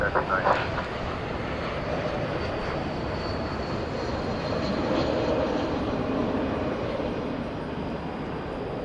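An American Airlines jet taking off from runway 18 Left at Dallas/Fort Worth airport at night, heard as a steady, distant roar of jet engines that swells slightly midway, with a faint radio voice early on.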